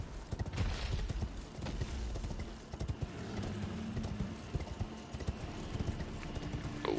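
Steady rapid hoofbeats from a galloping horse in the video game Elden Ring, a continuous drumming clip-clop at moderate loudness with no talk over it.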